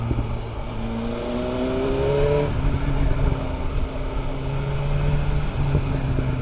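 A 2025 BMW M 1000 R Competition Pack motorcycle engine idles, then revs upward with climbing tone before settling back to a steady, loud running note, with a sharp pop or two near the end.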